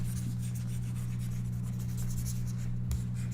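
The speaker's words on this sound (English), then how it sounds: "Let me just erase this then." Steady rubbing and scrubbing of an eraser across a board after a lesson diagram, a continuous close friction sound over a constant low electrical hum, with no voices.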